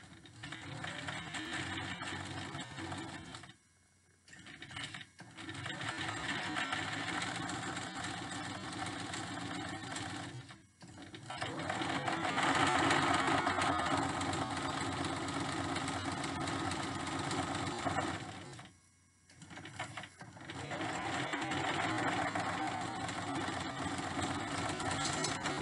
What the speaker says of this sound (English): I'm starting at the very tip of the Liripipe, and I'm gonna sew all the way up just one side